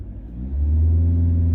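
A Kia Tasman turbo diesel pulls away from a standstill at a traffic light, its low engine rumble swelling into a steady, deep drone from inside the cabin.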